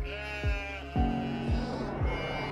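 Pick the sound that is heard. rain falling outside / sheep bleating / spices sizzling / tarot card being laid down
sheep bleating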